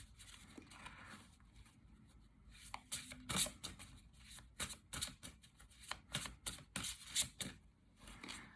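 Large, stiff tarot cards are shuffled in bursts of rapid riffling clicks, close by and fairly quiet, with brief pauses between rounds.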